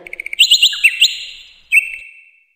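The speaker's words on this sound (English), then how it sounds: "Bird." A bird chirps in a quick run of bright, sharp tweets followed by a longer whistled note after a short pause, close and clear with no other sounds.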